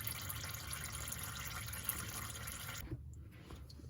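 Transmission fluid from a 2007 Lexus IS 350 pours steadily out of the drain in a quiet, continuous liquid stream that thins and trails off near the end, with no talking.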